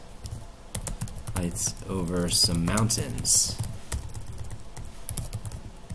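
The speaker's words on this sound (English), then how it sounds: "Sorry for my bad typing here." Quick clattering keystrokes on a computer keyboard, typed in irregular bursts close to the microphone while someone talks over them.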